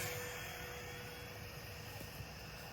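Small electric motor of a hand-launched model airplane running steadily close by, a continuous whirring buzz with a faint high tone and no talking over it.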